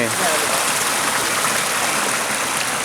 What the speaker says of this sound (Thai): น้ำตกขาแม่คำนะครับ เป็นเขตแม่สลองอยู่นะครับ